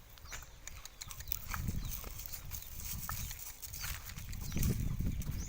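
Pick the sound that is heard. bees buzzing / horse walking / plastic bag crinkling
horse walking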